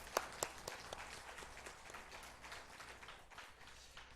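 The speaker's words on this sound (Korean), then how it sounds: "집사님 축복의 박수 한번 치겠습니다." A church congregation at a worship service claps in blessing for a deacon, starting with a few sharp claps and thinning into a faint, scattered patter in a quiet room.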